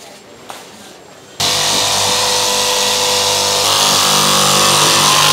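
A machine cutting rebonded HR foam for a latex mattress starts abruptly after a quiet moment, then runs as a loud, steady mechanical roar with a grinding whine through to the end.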